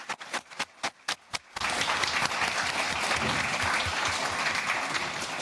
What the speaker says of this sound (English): I want to ask for a very, very strong round of applause and maybe some woohoos for our speakers today.